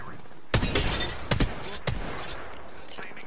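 Repeater rifle shots in the Apex Legends video game: three sharp, loud cracks spaced roughly half a second apart, each with a brief ringing tail, followed by quieter in-game rumble and a final abrupt burst at the end.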